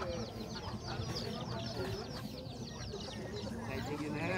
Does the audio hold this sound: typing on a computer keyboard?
no